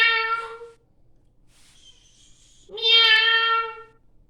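A cat meows twice, close and clear, with a quiet pause between the two calls.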